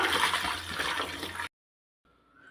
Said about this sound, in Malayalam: ഉലുവയില ഇതുപോലെ കട്ട് ചെയ്തെടുത്തിട്ടുണ്ട് നല്ലതുപോലെ കഴുകിയെടുക്കാം